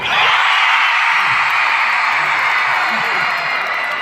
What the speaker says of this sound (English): And can all the girls cheer?